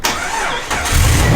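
A 4.0L engine cranks over on a battery jumper pack and catches, the short starter whir turning into a loud, close engine rumble as it fires and begins to run.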